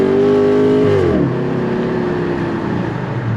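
Dodge Charger (2006–2010) engine with paddle shifters: a loud, close rev that drops sharply in pitch as it downshifts, then settles into a lower steady drone.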